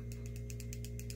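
Small cosmetic bottle shaken quickly by hand, a faint, close series of rapid rattling clicks in an even rhythm over a low steady hum.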